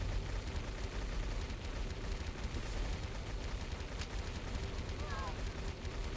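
Dense, continuous gunfire from the player's own weapons in a video game, a steady wall of rapid shots throughout with occasional chirps of other effects.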